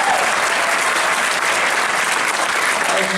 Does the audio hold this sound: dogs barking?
no